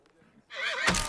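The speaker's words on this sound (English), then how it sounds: "The army has dealt with wild horses before." Wild mustang horse from the film Spirit: Stallion of the Cimarron, a single loud, close, shrill neigh that breaks into a harsh whinny, preceded by faint quiet sounds.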